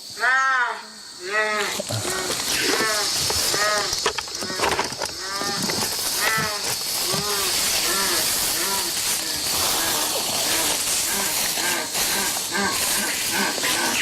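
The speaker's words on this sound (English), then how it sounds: "An MP3 player and speakers broadcast a jaguar call into the jungle." A recorded jaguar call played through MP3 player speakers into the Amazon rainforest: a series of repeated, tonal calls sounding steadily over a constant hiss of jungle insects for the whole stretch.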